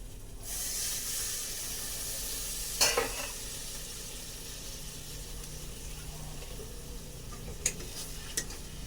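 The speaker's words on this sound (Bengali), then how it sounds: "হালকা একটু মশলায় জল দিয়ে দেবো" Water poured into frying spice masala in a pan, with a steady broad sizzle and hiss throughout, a louder burst of spatter near the start, and a couple of brief clinks toward the end.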